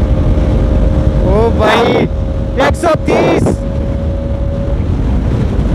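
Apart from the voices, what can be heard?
Yamaha R15 motorcycle riding at speed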